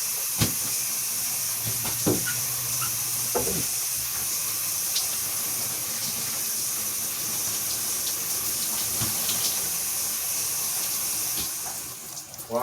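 Shower water runs as a steady, close hissing spray that continues unbroken, with a few faint knocks and clicks over it, until a brief shift right at the end.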